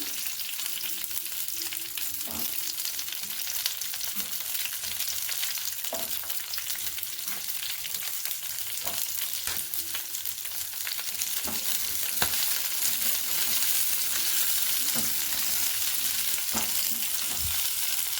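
Red chilies sizzle and fry steadily in a pan for a gongura chutney, a continuous close crackling hiss with occasional stirring clicks, no voices.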